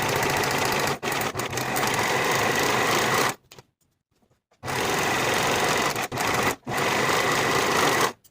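A sewing machine runs loud and close, stitching overall facings with a 3/8 inch seam allowance. It whirs in long steady runs, breaks into a full stop of about a second, then resumes with brief hesitations.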